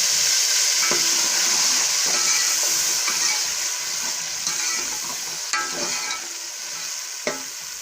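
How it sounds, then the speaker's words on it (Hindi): Spice masala with salt, ground coriander and a splash of water sizzles and fries in a pan for a potato curry, with steady hissing and intermittent scraping stirs close by, and no talking. "मसाले को थोड़ी देर भूनेंगे।"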